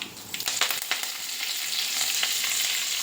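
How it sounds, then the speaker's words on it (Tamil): Fennel and cumin seeds splutter in hot oil, giving a bright, close crackle with quick pops early on that settle into an even, hissing sizzle. "கொஞ்சம் பெருஞ்சீரகம் கொஞ்சம் ஜீரகம் ஜீரகம் போட்டுட்டு பொறிஞ்சதும் கருவேப்பிலை போட்டுக்கலாம்"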